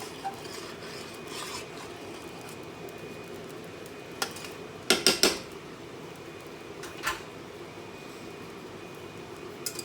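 Roux being stirred in a pot with a steel spoon, quiet scraping along the bottom broken by a quick cluster of three sharp metallic clanks midway and a lone later clink.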